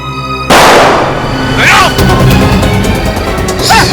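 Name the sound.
gunshot fired at a CID officer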